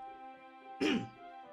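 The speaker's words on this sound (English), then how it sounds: "Sorry for that coughing, I mean, it's really annoying." One short, rough cough breaks through a quiet, steady hum, then fades quickly.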